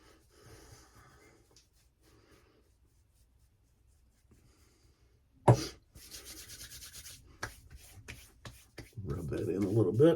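Shaving product being rubbed into skin after a Western-themed shave, soft close rubbing and friction noises that grow louder toward the end, with a brief sharp knock partway through.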